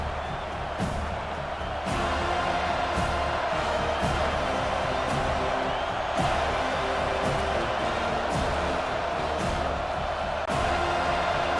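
Home crowd cheering at a Clemson versus Florida State game in College Football 25, a loud, steady stadium roar with scattered whoops and claps that stays constant throughout.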